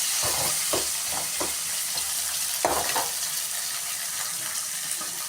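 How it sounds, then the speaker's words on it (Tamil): Chopped tomatoes sauté and sizzle in a pan for pakoda kulambu, with a steady fry hiss and repeated rhythmic scraping strokes of a stirring spoon, close and moderately quiet. "நம்ம குட்டி குட்டியாக கட் பண்ணி வச்சுருந்த தக்காளியை போட்டு நல்லா வதக்கிக்கலாம்"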